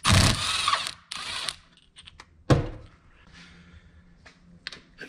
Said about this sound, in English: using a 10mm socket, just back them off